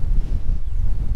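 Strong wind gusts over an exposed mountain ledge in the Spanish mountains, a loud continuous low buffeting roar against the microphone.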